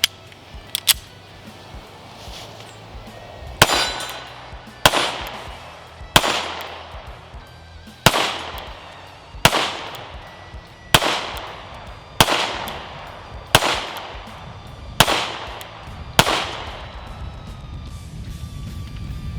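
A Sig P365 SAS pistol fires about a dozen loud, sharp shots outdoors, spaced roughly one to two seconds apart in a steady rhythm, each crack trailing a brief echo.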